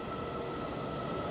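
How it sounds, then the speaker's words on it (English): A train pulls out of a large railway station in China, giving a steady, continuous rumble of rolling stock that fills the whole stretch at moderate loudness, with no talking. "And there goes my train."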